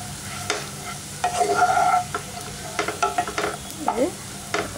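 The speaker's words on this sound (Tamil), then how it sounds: "நெய்யில் வந்து எல்லாம் கலந்து வர மாதிரி வந்து வதக்கிடுங்க." Idiyappam for kheer stirred and sautéed in ghee in a pan, soft sizzling under irregular scraping and stirring strokes of a spoon, quiet and close, with no talking.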